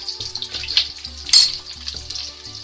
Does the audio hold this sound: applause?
no